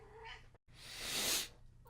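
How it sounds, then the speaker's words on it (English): A house cat meows close by: a short tonal mew, a brief pause, then a longer drawn-out, breathy caterwaul that swells and fades before another mew begins. No one talks. "Cat, why are you meowing at me?"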